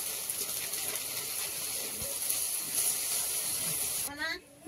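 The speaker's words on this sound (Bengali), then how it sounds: "মাছটা উল্টিয়ে দিয়েছি, আর এবার ভাজা হলে তারপর নামাবো, এখনো ভাজা হতে দেরি আছে।" Bombay duck (loitta) fish frying in hot oil in a home kitchen pan, a steady close sizzling hiss throughout, with a voice talking near the end.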